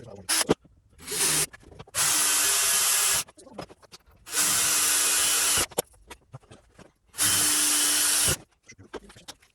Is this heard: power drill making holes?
yes